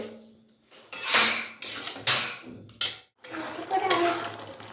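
Ghugni being stirred and fried in a pan, with a spoon scraping and clattering against the metal in several distinct strokes separated by short quiet gaps, close and moderately loud.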